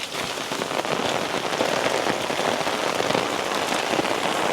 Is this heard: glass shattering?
no